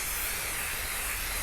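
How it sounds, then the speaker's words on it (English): Adhesive spray hisses steadily from an aerosol can onto the back of a paper card, a continuous broadband spray held close and fairly loud for the whole stretch, with no talking. "Kind of just sprays like hairspray."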